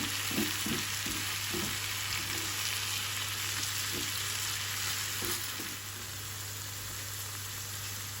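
Steady sizzling and frying as chopped tomatoes in their own juice are poured into a hot pan, with a few soft bubbling pops early on, constant and close.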